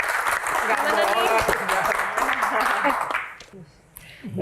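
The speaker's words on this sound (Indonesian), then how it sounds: "tepuk tangan dong" A studio audience on an Indonesian variety show claps as guests are called forward, a dense burst of applause mixed with voices and crowd noise that fades near the end.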